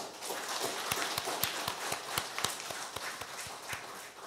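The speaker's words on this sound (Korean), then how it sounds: "앞으로 신앙생활 잘 하라는 의미에서 축하와 격려의 박수를 하시겠습니다." A church congregation at a Sunday worship service claps in encouragement, with many separate sharp claps and a few louder spikes, steady for several seconds and moderately distant, with no talking over it.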